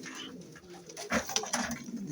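Racing pigeons coo close by in soft, throaty bursts, with a light rustle of movement underneath.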